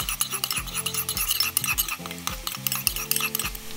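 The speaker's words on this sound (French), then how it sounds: "On récupère la mixture de fécule. Ça s'est déposé dans le fond. Donc on remélange un peu." A utensil stirs a settled starch mixture for a stir-fried bean sprout dish, with continuous scraping and clinking against the vessel over a steady background hum of machine-like tones.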